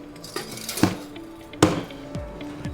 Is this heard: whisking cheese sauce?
yes